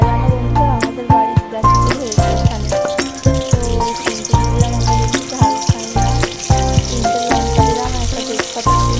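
Oil spits and sizzles steadily in a pan, close and fairly loud, with a few clattering knocks on top and no one talking.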